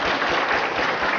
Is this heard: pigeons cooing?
no